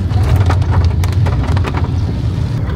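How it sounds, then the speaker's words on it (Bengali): Heavy rain pounds steadily and loudly during a drive by car through East Sikkim along the swollen Teesta, a dense continuous roar of drops with low rumble, no talking. "প্রচণ্ড পরিমাণে বৃষ্টি হচ্ছে, তিস্তা পুরো উত্তাল হয়ে আছে।"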